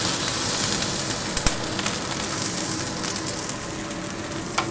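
Tempe being stir-fried in a pan for a sweet-spicy orek with a splash of water, a loud steady sizzle and steamy hiss broken by clinks of a utensil against the pan.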